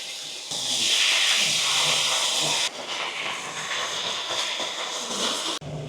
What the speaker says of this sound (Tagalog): Ilagay na natin sa pinainit nating kawali.